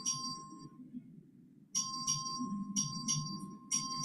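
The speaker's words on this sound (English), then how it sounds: "The clerk will ring the bell." A committee clerk's electric voting bell rings in a legislative hearing room, a loud sustained metallic ringing in long bursts that stop and start, with a low murmur of room noise beneath.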